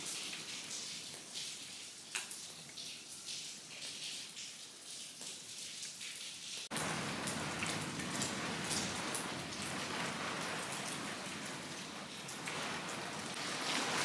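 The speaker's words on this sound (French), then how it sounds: "Résultat, on reste 10 ans sous la pluie." Heavy rain pours down during a storm in Tenerife, a steady dense hiss that abruptly intensifies halfway through into a louder, fuller downpour drumming nearby with no talk.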